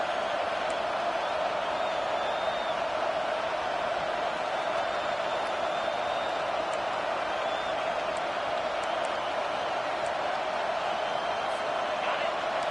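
Home football crowd roaring as the defense tries to get off the field on third down, a steady, loud wash of cheering that holds for the whole stretch under a commentator's voice.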